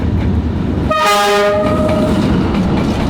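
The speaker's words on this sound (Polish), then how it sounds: "jechał super. szybko i miałem wrażenie, jakby miał zaraz mi jechać w twarz ten pociąg" A train races by at very close range on a street-side track in Hanoi, Vietnam, its horn blaring in a loud multi-tone blast as the carriages rush past with a roaring rumble and steady clatter.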